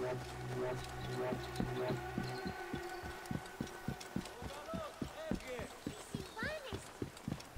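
A horse-drawn chariot of a phylakitai guard in Assassin's Creed Origins, steady clip-clop of hooves and rolling wheels drawing closer, set against a droning music bed with speech over it.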